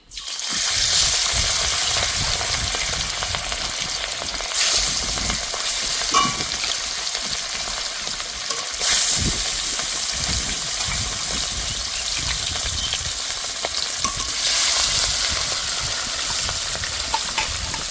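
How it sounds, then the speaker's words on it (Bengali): Pieces of rohu fish sizzle loudly in hot mustard oil, a dense continuous frying hiss with occasional spatters and stirring, close and steady throughout, no talking. "তেল ভালো করে গরম করে নিয়েছি, এবার মাছগুলো দিয়ে দেব।"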